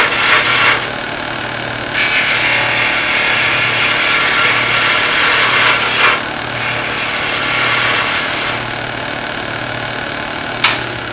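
A skew chisel takes planing cuts along a spinning workpiece on a wood lathe, giving a steady hissing shave in several passes with short breaks between them, all over a constant low motor hum.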